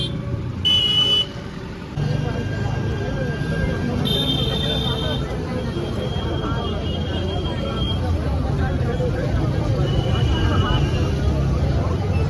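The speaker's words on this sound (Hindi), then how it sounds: "ये हॉर्न सुन के आप चौंकिएगा मत, ये भारत की राष्ट्रीय बीमारी है।" Car horns honk amid busy street traffic in Ayodhya, with a few short toots standing out over a steady rumble of vehicles and crowd noise while someone talks throughout.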